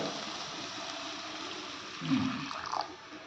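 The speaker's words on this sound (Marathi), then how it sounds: "आता ह्याच्यामध्ये गरम पाणी ओतायचं" Hot water poured into a pan of kofta curry gives a soft, faint splash and gurgle that swells briefly toward the end over low kitchen background.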